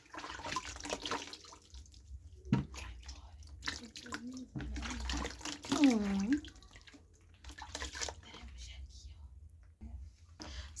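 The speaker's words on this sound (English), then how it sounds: "So we have rinsed our face." Running water splashes as a tomato scrub is rinsed off a face, trickling and pouring in uneven bursts while a person talks quietly over it.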